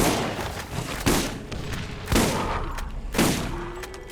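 Grenade explosions in Borderlands: three heavy booms spaced about a second apart, each with a rumbling decay over a constant background din.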